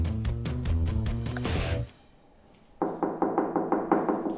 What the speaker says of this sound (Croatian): Nikakve vidne koristi od kucanja na vrata.